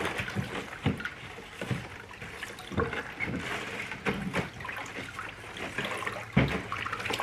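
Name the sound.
water being mixed and swirled in a tank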